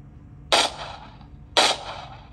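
Two sharp video game gunshots ring out about a second apart, each with a short echoing tail over a quiet background.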